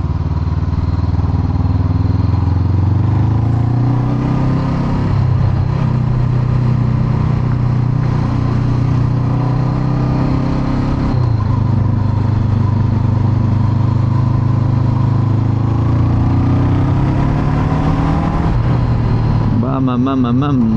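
A 2021 Honda CB500X motorcycle engine while riding, a loud steady drone that rises and falls through gear changes, with a rider talking over it.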